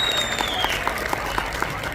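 An audience at a film teaser event claps steadily, a moderately loud wash of applause with a few sharper individual claps standing out. A faint tone drifts through the background.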